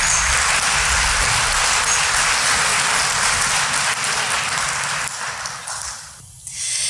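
Sustained audience applause at a county candidates forum, dense steady clapping for several seconds that thins and fades toward the end.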